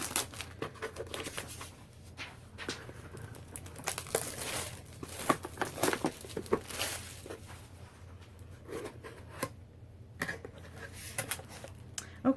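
A Paper Pumpkin craft kit arrives in the mail and its package is opened, with steady crinkling and crumpling of paper and plastic wrap, some tearing bursts, close and moderately loud.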